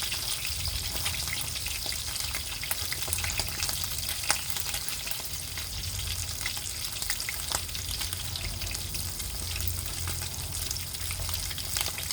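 Mackerel frying in a pan of hot oil gives a steady, dense sizzle that holds without a break, with small crackles and spits over a low, even bed of bubbling.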